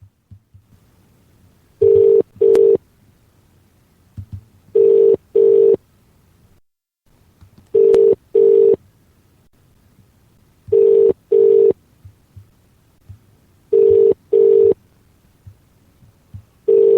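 A telephone line calling Sky voicemail sounds a loud, repeating tone in short paired bursts separated by even gaps of silence, steady and alone.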